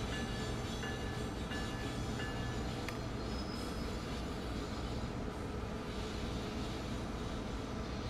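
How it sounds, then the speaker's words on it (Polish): An Amtrak ACS-64 electric locomotive in Train Sim World 3 rolls slowly into a large station, giving a steady, close rumble of running gear with a few faint squeals and ticks over the top and no talking. "Pomalutku będziemy wjeżdżać na stację."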